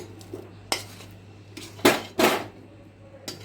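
A spatula scrapes and knocks against a pan while a besan mixture is stirred, giving a few sharp metallic clacks and short scraping strokes spaced unevenly over a low steady hum, close and with no talking.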